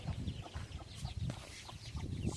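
A rooster clucks and calls in short bursts close by, repeated several times against a faint outdoor background.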